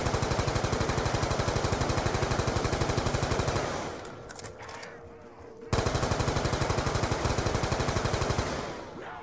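Ray gun fire from Black Ops 2 Zombies, a rapid, loud run of repeated energy-weapon shots that cuts out partway through, leaves a short quieter gap, then resumes at full intensity to the end.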